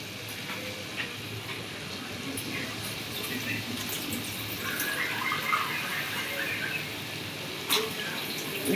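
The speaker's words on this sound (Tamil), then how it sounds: "இப்போ இதில் நான் 1 கிளாஸ் தண்ணி ஊற்றிக்கிறேன்." A glass of water is poured into a pot of white chicken biryani with its masala, making a steady, soft splashing pour with some sizzling, fairly faint and continuous.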